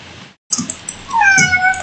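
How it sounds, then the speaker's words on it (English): A cat meows in a couple of clear, drawn-out calls after a brief silence, close by and fairly loud, with a rising then falling pitch. "What are you meowing at?"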